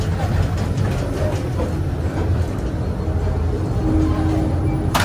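A Russian train running near Moscow, heard from inside the carriage as a steady low rumble and hum of the wheels and rails, continuous and fairly loud, with no voices.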